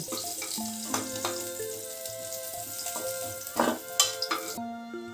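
Bitter gourd and drumstick pieces fry in hot oil with a steady, soft sizzle, while melodic background music plays prominently over the frying throughout.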